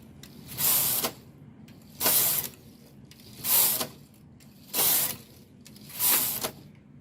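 An SK 560 knitting machine carriage sweeps across the bed for a couple of rows, five evenly spaced swishing, whirring passes about every 1.4 seconds, close and clear with short quiet gaps between, no talking.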